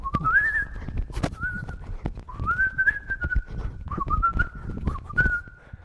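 Someone boxing whistles in short, rising tones with each breath while throwing punches, breathy puffs and soft thuds falling between the repeated whistles.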